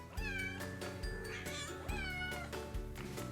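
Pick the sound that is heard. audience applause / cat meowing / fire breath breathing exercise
cat meowing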